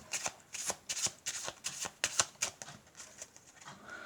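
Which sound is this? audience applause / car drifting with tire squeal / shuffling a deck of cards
shuffling a deck of cards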